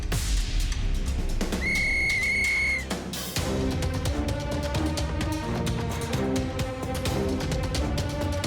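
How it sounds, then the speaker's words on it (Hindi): A single sustained whistle blast signals the start of a race in an animated children's cartoon, ringing out clearly for about a second over busy, continuous background music. "सीटी बजाते ही रेस शुरू हो जाएगी।"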